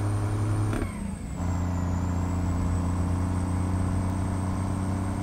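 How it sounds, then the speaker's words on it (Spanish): An Optimus Prime-styled truck driven on Colombian roads in a trucking simulator shifts gears without the clutch: its steady engine drone dips briefly during the shift, then settles back into a loud, even hum. "Metamos los cambios sin clutch."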